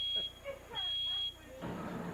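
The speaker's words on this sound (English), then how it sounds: "Here's the fire alarm." A smoke alarm goes off during cooking in a home kitchen, its high shrill tone sounding in two piercing bursts, the second longer, while people talk nearby.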